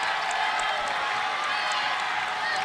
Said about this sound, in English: Cherry, as the crowd gets loud and more vocal.